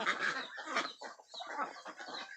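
A female Ee-liang duck calls loudly, a rapid run of harsh quacks repeated several times close up.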